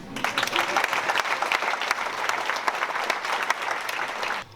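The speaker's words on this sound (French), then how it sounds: "Et là, franchement, moi j'ai envie de vous applaudir." Sustained applause from an audience, steady and full for a few seconds before cutting off abruptly.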